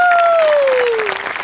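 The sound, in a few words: audience applause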